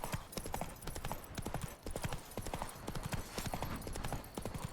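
Horse hooves clip-clopping in a video game, a quick continuous rhythm of close, crisp hoofbeats at a trot or canter across the whole stretch.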